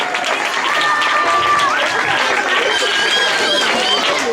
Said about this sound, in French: Applaudissez, c'est comme si je n'ai pas entendu votre bruit là.